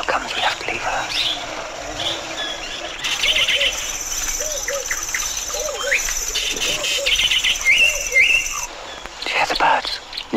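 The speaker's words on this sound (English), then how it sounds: "Do you hear the birds?" Birds call in the African bush, with repeated chirps and whistled notes near and far over a constant cricket-like insect hum, and someone speaks briefly at the start.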